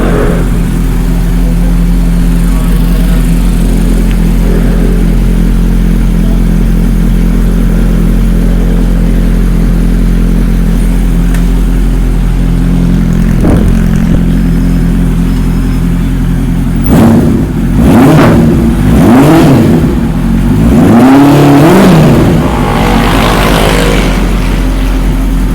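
A Honda CB400 motorcycle engine with VTEC idles steadily and loudly up close, then revs several times in sharp rising and falling bursts near the end.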